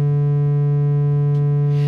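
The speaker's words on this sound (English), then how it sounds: "right now, the way the knobs are set, it's going to sound just like a sine wave" A steady, pure sine wave tone from an FM modular synthesizer hums evenly with no wavering, followed by a faint brief noise near the end.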